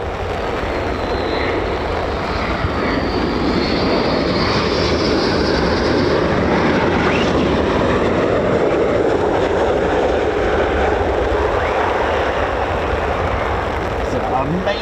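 Military fighter jet landing at RAF Lakenheath, home of the 48th Fighter Wing flying F-15s and F-35s, a broad continuous engine roar that stays loud and steady throughout, with talk mixed in.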